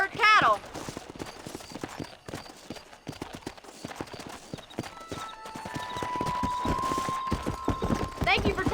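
Horse hooves clip-clopping at a steady walking rhythm as a rider travels in Red Dead Redemption, moderately loud, with game dialogue and a sustained tone layered over the hoofbeats.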